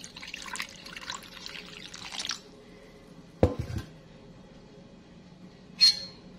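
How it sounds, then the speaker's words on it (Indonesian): Water is poured into mixed ingredients for Acehnese sour curry (gule asam keueng). A faint splashing pour is followed by a couple of soft drips and wet sloshes, quiet and close. "Saya telah mencampurkan semua bahan, lalu saya tambahkan air."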